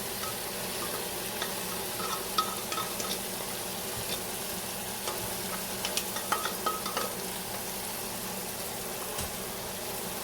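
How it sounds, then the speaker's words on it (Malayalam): Lentils sautéing in hot ghee in a pan, a steady soft sizzle with occasional scrapes and clicks of stirring, close and fairly quiet with no voices. "ഇനി നമ്മൾ ഈ ഗീയിൽ നമ്മുടെ പരിപ്പ് കുറച്ച് നേരം വഴറ്റിയെടുക്കണം."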